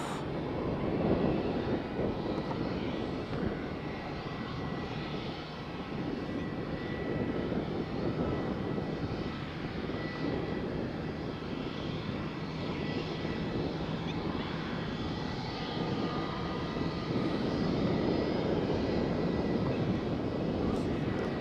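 EasyJet airliner jet engines at Faro Airport near the beach, a broad, steady roar that rises and falls slightly at moderate distance for about twenty seconds, with no talk.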